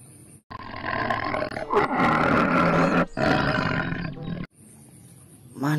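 Tiger roar effect from a toy tiger, several loud growling roars at close range separated by brief pauses and ending in a quieter tail.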